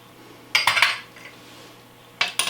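A metal spoon clatters against a dish after scooping chocolate gelatine pudding, two quick sets of bright rattling clinks close up in a quiet kitchen.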